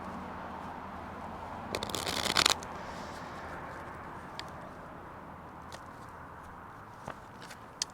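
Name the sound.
shuffling tarot cards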